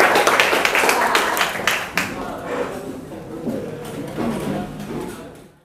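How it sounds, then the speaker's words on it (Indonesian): A classroom group gives a burst of applause, dense clapping that thins out and fades after a couple of seconds, with voices murmuring underneath. "beri tepuk tangan"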